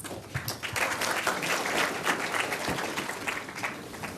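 An audience claps for Professor Ezra Vogel after a university lecture in Hong Kong, a sustained, even round of applause from a large hall, moderately distant and unbroken for several seconds.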